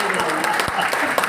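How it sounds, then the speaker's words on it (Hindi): Loud audience applause at a Hindi comedy poetry show, dense steady clapping from a crowd over a brief burst, with a voice talking over it. "एक बार जोरदार तालियां"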